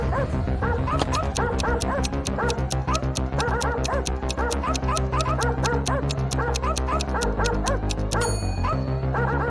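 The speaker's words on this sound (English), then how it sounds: "Barking, it ran after Eve." A cartoon robot dog barks in a rapid, regular series of yips and bow-wows, loud and close, alongside a steady musical score with no speech.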